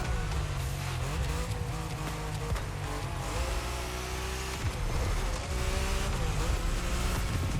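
Race cars roar through a grand race in the video game The Crew Motorfest, engines revving and shifting continuously with loud, dense car noise throughout and no talking.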